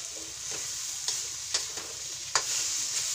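Bitter gourd stuffing with spices and raisins frying in a pan, a steady bright sizzle broken by a few soft stirring scrapes, close and without speech.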